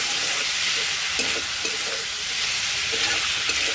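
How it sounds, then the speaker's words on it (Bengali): Onion and mixed vegetables fry in a pan with a steady, close sizzle and occasional stirring scrapes, continuous throughout with no talking. "সবগুলো এবার ভালো করে ভেজে নেব।"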